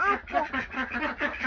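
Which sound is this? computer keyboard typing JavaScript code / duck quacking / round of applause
duck quacking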